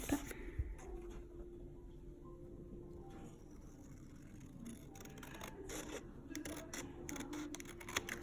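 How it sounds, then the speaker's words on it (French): Scissors cut paper into an envelope shape for a handmade box album, giving soft close snips and crisp rustles that grow busier toward the end over a faint steady hum. "Donc moi je vais le faire au ciseau."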